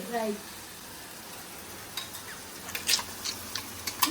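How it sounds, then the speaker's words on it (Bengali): Spice masala fries in a pan for fried rice with a steady, soft sizzle and occasional light clinks of a utensil against the pan. A voice is heard briefly at the start. "তো চলো এদিকে মশলাটা ভাজি"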